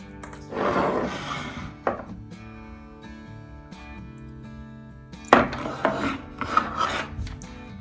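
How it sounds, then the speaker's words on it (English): A seam ripper picks stitching out of a gun holster, producing close, dry scratching and rasping bursts, some sharp snaps as threads give, in two clusters separated by a quieter gap. "I'm just gonna gently remove the seams without actually getting into the fabric itself or the string itself"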